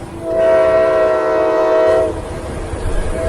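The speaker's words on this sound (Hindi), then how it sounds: "तभी पास के रेलवे ट्रैक से एक भारी मालगाड़ी गुजरी।" Heavy freight train rolling past on a nearby railway track, a loud sustained tonal horn-like drone with rumbling underneath that swells and then cuts off partway, leaving a steady lower rumble.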